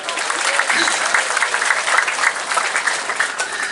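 An audience at a school graduation farewell ceremony in Semarang applauds the teachers with dense, steady clapping that stays close and even throughout.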